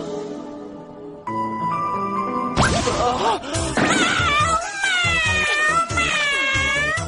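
A cartoon girl magically transforms into a cat, heard as a bright shimmering chime followed by crashing hits and a run of loud, close cartoon meows with no talk.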